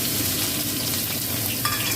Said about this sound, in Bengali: আচ্ছা, এইবার আমি এই তেলে দিয়ে বেরেস্তাটা ভেজে নেব।